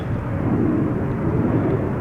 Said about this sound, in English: it's an A330 going to Helsinki from Finnair, not an A350